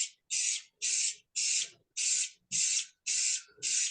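An aerosol spray can applies finish to a turned wood snowman in eight short, evenly spaced hissing bursts, each about a third of a second, close and crisp with brief silences between.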